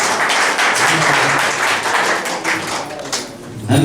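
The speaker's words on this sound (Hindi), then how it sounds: "ताली बजाएं एक बार।" An audience at a business team celebration in Amarkantak bursts into dense, loud applause that fills the room continuously for several seconds before easing off.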